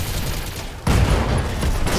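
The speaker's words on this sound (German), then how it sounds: "Commencing Alpha Strike." A mech's alpha strike in the video game Battletech: a sudden loud volley of weapons fire lands in under a second and leaves a dense, rumbling wash of blasts.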